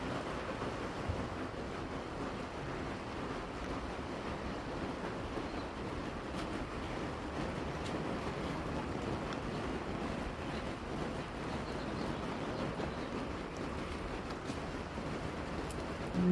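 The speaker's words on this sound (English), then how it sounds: "That's water. Everything's running off on the outside." Rain water runs steadily off the outside of a wall tent during a downpour, a continuous even wash of splashing and trickling that fills the whole stretch with no voices.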